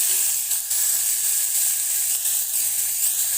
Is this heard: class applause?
no